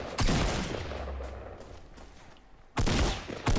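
Video game gunfire in Fortnite bursts loudly at the start, fades into a murky rumble, then returns as another sharp volley near the end, close and punchy.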